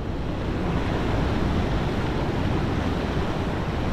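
Steady ocean surf rolls and hisses along the coast at a fishing spot on calmer sea, a continuous loud wash of breaking water mixed with wind buffeting the microphone, with no voices.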